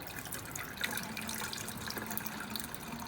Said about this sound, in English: I'm going to drain this water off of my cranberries.